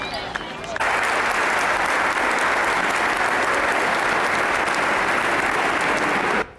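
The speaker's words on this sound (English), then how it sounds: "You deserve a huge round of applause" A huge round of applause from a crowd swells in abruptly after a brief quiet moment and holds dense and steady for several seconds before cutting off.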